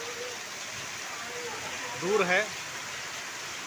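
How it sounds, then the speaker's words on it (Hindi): Heavy first monsoon downpour in Mandla, with thunder and lightning nearby, makes a steady dense hiss throughout, and a voice speaks briefly in the middle over the rain. "ये पहला बारिश है इतना मूसलाधार इस साल का"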